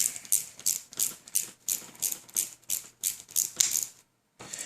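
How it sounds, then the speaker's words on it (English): A nylock nut is tightened onto a small Tamiya 40-foot container trailer model, giving a quick series of close, crisp ratcheting clicks in short bursts, with a brief pause near the end. "get it started and screw it down"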